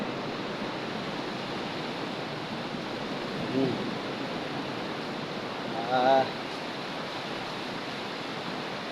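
Sea surf breaks at the shore in Pangasinan as a steady, fairly loud wash of noise, with a brief murmured voice partway through.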